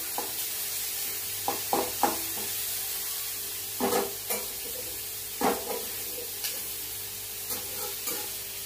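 Tomatoes frying in hot oil for a dried-fish (sukat) vegetable dish: a steady soft sizzle with several short scraping stir strokes spaced through, close and fairly quiet, no talk.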